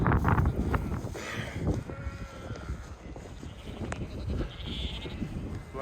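Sheep bleat nearby on a countryside walk in High Legh, Cheshire, a few calls rising over gusty wind rumble on the microphone.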